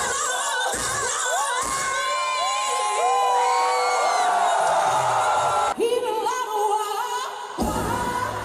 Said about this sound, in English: Too much crowd noise.